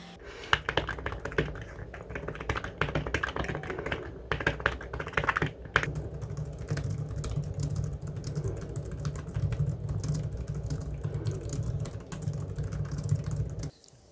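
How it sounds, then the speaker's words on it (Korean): Steady, fast typing on an iPad Smart Keyboard Folio, with dense close-up key clacks running continuously at moderate loudness and no talking. "오히려 타자 소리가 생각보다 크게 나서 막 집중해서 타자 치고 있으면"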